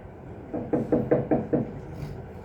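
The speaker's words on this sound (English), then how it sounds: "like the sound of a hand knocking on a door" A hand knocks on a door five times in an even, steady rhythm, each rap close and clear, with quiet room tone before and after.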